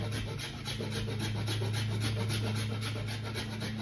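Citrus peel being grated on a zester, a steady rapid scraping rasp repeated in quick even strokes, close and fairly quiet, with a low constant hum underneath.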